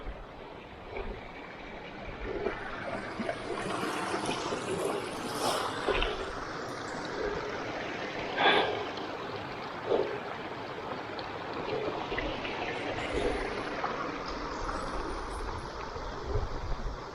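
A steady rush of falling water from a waterfall in the High Uintas near Uinta Lake roars broadly and continuously, with a few brief knocks standing out along the way.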